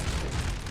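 An artillery shell strikes in a Napoleon: Total War battle, a brief, loud, rumbling impact with a dense crackling wash.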